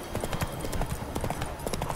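Roach the horse gallops in The Witcher 3, a steady rapid clip-clop of hooves running continuously at close range with no pauses.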